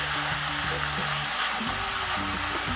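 Sausage, onion and corn sauté in a pan, giving a steady, close sizzle and crackle with a few soft stirring scrapes throughout, with no talking.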